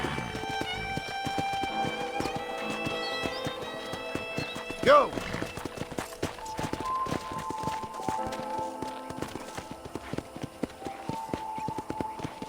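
Horse hooves clip-clopping in a steady galloping rhythm in the video game Red Dead Redemption, close and continuous, with a sharp neigh partway through, under game music and talk.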